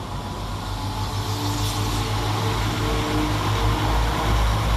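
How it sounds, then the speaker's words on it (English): Northern class 195 diesel multiple unit departing Bramley station in West Yorkshire, a steady low engine drone and rumble building gradually with continuous broadband rail noise, fairly close and loud throughout. "Next to depart from the station 12 minutes late will be 195010 and 195017, with the 1503 Northern service from Manchester Victoria through to Leeds."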